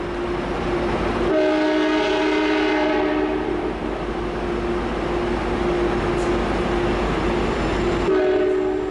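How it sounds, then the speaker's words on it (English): Locomotive 90208 sounds a long, loud two-tone horn blast, cutting off and then blowing again over the rumble and clatter of the passing train. "at least 90208's horn sounds good"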